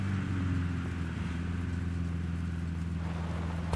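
A boat engine runs at a steady, loud hum with a constant low drone and no talk.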